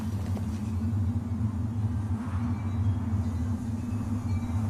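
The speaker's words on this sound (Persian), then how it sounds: "طوفان است." A storm rumbles in a historical drama scene: a deep, steady, continuous roar that holds at an even loudness throughout, with no voices.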